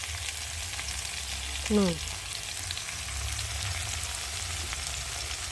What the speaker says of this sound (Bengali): এখন সবজিগুলোকে দিয়ে ভালো করে কষিয়ে নেব